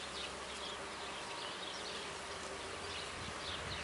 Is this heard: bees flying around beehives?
yes